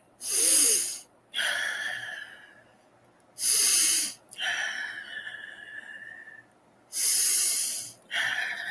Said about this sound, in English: Listen to the rhythm of your breath.